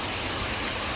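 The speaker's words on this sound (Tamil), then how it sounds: "வேற லெவலு மழை பெஞ்சிட்ருக்கு." Heavy rain pours onto a house rooftop terrace in a steady, dense hiss with no pauses, loud and close throughout the short stretch.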